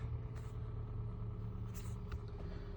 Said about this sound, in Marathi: आता मस्तपैकी गाडी केली चालू